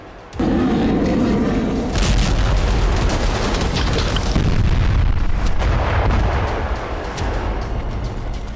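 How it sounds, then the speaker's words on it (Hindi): Heavy, continuous booming blasts of explosions in Iran, like artillery, loud and rumbling throughout with layered bursts and no speech. "ईरान में धमाकों का शोर शुरू हो चुका है"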